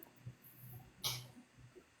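A single short sneeze bursts out sharply in the middle of a quiet indoor room, with faint soft background sounds around it.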